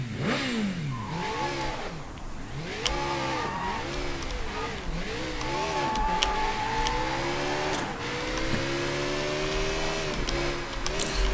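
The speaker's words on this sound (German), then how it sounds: "dann nehme ich doch das Motorrad jetzt" Motorcycle ridden in the open-world game Sleeping Dogs, its engine revving up and down in repeated rising and falling sweeps, loud and continuous over background music for the whole stretch.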